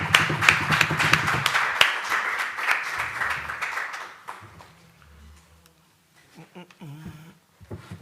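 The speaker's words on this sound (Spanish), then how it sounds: "un aplauso para ellos" Audience applause at the Sitges 2019 film festival press conference, a dense burst of clapping through the first four seconds that fades into scattered claps with voices talking over it.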